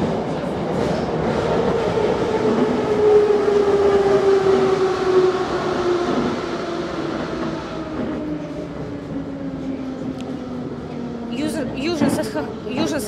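A Moscow metro train on the Big Circle Line rumbles and whines at Aminyevskaya station, a steady loud roll with a falling tone as it slows, ending in faint clicks and squeaks.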